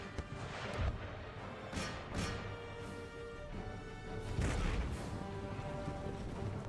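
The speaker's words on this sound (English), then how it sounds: "All my artillery engage the hussars." Distant cannon fire from artillery in Empire Total War booms in scattered dull thumps, layered over a constant rumbling battlefield din with no clear voices.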